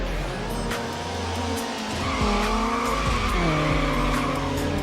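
A Dodge Neon races in Need For Speed Underground on PS2, its engine revving up and down through gear shifts while tires squeal in skids, loud and close under a steady game soundscape.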